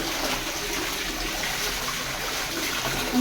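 Plain water pours over someone during a bath, a steady splashing and trickling stream that continues for a few seconds at moderate loudness, with no talking.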